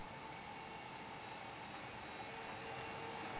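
A Bucher CityCat 2020 EV electric street sweeper runs with a steady, faint whirring hum and broadband brush and fan hiss, constant throughout with no voices.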